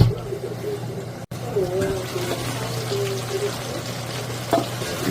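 Korean-style sea fish stew being stirred in a pan, a bubbling simmer with soft scraping and liquid movement, close, with a voice speaking over it.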